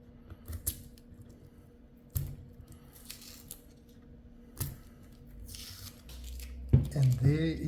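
Tape on a shoe last being cut along a straight edge, with short rasping, tearing strokes at intervals, close and fairly quiet, with a voice and handling noise near the end.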